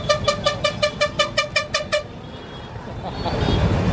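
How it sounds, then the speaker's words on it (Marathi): A rapid run of about nine short, loud car horn toots, then the steady rumble of road traffic carries on, near Saswad amid crowds of pilgrims. "गाडीवाल्या हॉर्न वाजवायला लागलेला आहे"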